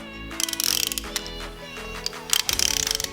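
A ratchet with a 17mm deep socket tightening a catch can fitting, two quick bursts of rapid metallic clicking separated by a pause, close and crisp, with no talking.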